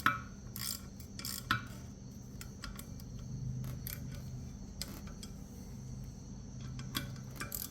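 Bolts being tightened on a Z1 two-piece brake rotor for a 2014 Infiniti Q50S with Akebono brakes, heard as a series of sharp ratcheting clicks in short irregular bursts over a low steady hum, close and moderately quiet, no talking.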